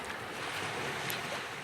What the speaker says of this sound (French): tu es là sur la plage avec le ressac que tu entends